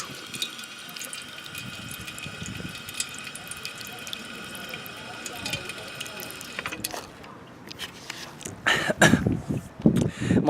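A drinking fountain outdoors at a lacrosse tournament clicks and hisses as water runs in a steady stream, followed by louder splashing and handling noises near the end.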